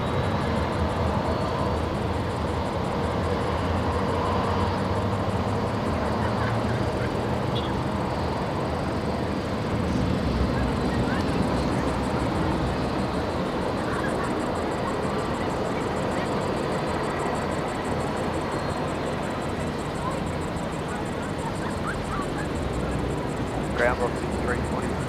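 Jet aircraft noise at Brisbane Airport at night: a steady, broad roar that holds for the whole stretch with no clear rise or fall, like engines running or taxiing some distance off.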